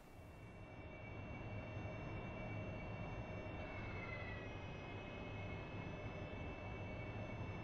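AV-8B Harrier jet in the DCS flight simulator, a steady, loud engine roar with a constant whine and tonal hum running throughout without a break.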